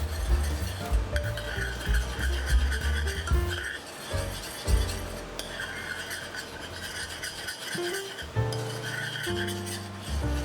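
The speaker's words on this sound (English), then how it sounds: "Once it's brought to a boil and you see it thickening, turn off the heat and continue to stir." A spoon steadily stirs thickening peanut sauce in a pot with continuous scraping and rubbing, close and fairly loud, with no talk.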